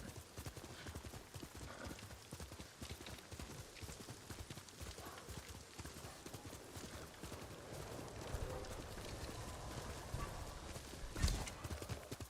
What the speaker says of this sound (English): At least I haven't forgotten how to ride a horse.